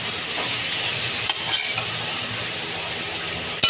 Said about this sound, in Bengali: নেড়ে চেড়ে একটুখানি মিশিয়ে দেবো নুনটা